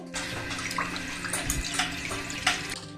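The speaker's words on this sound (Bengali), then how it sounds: "এবার আমি এখানে একটা পাত্রে 2 কাপ জল নেব।" Two cups of water being poured into a pot in a kitchen while a snack is cooked: a short, close, continuous splashing pour with no talking.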